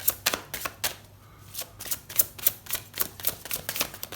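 Tarot cards are shuffled close by in quick, crisp riffles and taps, a rapid rhythm of papery flicks with a short pause near the start before the shuffling resumes.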